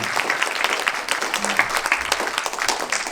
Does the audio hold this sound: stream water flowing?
no